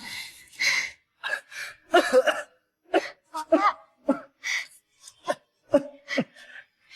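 A man coughs repeatedly in short, harsh bursts with throat clearing and gasping breaths between, close by and with no talking.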